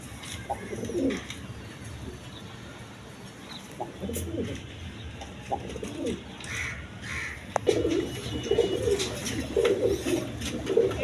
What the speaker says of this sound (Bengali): এখানে এক পেয়ার ডেনিস কবুতর আছে দেখেন